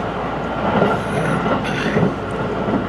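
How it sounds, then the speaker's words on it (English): A freight train rolls past on tracks near Kyoto, Japan, a steady, loud, close rumbling roar with rattling wheel-and-car clatter that swells slightly at moments and never lets up. "Some of the freight trains working through."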